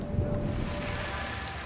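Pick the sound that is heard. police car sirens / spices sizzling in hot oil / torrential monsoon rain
torrential monsoon rain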